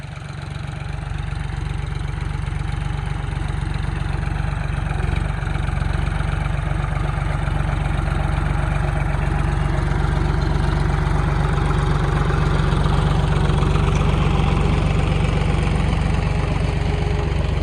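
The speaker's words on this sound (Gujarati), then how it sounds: "ટ્રેક્ટર હાલ્યું આવે." A tractor engine runs steadily on a farm during manure loading, a loud, low, continuous idle-like rumble with a faint knocking texture that holds without a break throughout.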